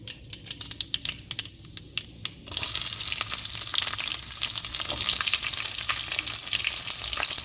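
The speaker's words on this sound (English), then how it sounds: "Now we'll go ahead and add our shallots, and everything goes in," Shallots for a Chettinad fish curry hit a hot pan and burst into a loud, close sizzle after a few sharp taps, with crackling spatter continuing steadily.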